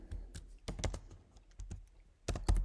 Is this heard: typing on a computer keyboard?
yes